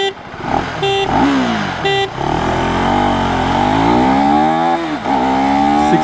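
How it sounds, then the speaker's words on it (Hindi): A KTM 390 Adventure or Royal Enfield Himalayan 450 accelerates hard in first gear after short horn blasts, engine note climbing steeply, dropping at shifts and rising again, loud and close. "चलिए अब इसके एक्सेलरेशन टेस्ट करते हैं"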